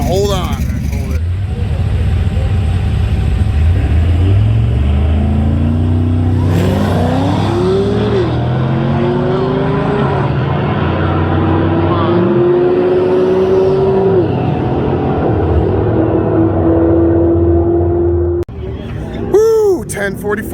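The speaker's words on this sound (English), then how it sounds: "We're gonna be launching a little harder." Drag race car launching hard down the strip at a high-altitude race week event, loud engine roar climbing through gear changes for about eighteen seconds, then cutting off, with excited voices underneath.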